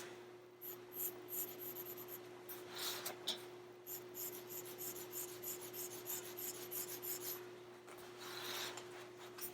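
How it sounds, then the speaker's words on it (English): Charcoal pencil shading on paper using the side of the pencil, a close, continuous raspy scratching in quick repeated strokes over a faint steady electrical hum. "Remember to use the side of your pencil as much as you can to get those areas covered."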